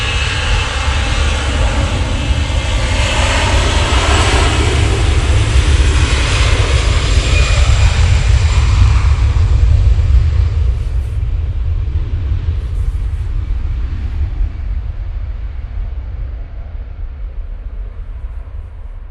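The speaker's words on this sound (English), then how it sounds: "Ryanair's just come in." A Ryanair jet landing at Manchester Airport gives a loud, steady engine roar with deep rumble that holds for the whole stretch and slowly fades toward the end.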